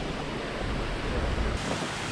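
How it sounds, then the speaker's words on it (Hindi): Water rushing from a waterfall at a Kashmir picnic spot, a loud steady broadband roar that fills the whole clip without pause. "थोड़ा सा शोर है यहाँ पानी की वजह से"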